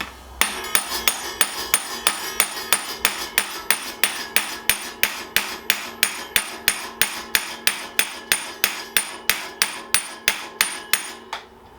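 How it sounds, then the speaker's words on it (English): A nut on a Giant Fathom E+ electric mountain bike is hammered in a steady, even rhythm of about thirty sharp metallic blows, close and loud, with no voices. "Just got to be careful battering it, because this nut thing on the end of here will have a habit of"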